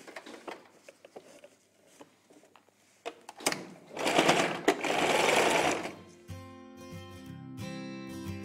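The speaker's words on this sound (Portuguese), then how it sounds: "Agora eu vou costurar" A sewing machine runs around the edge of a children's dress, first in short ticking bursts, then in a loud sustained whir of stitching that ends in a humming, rattling tail.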